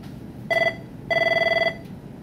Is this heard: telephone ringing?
yes